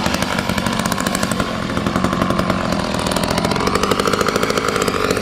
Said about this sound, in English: Dave's coming with a regular chainsaw.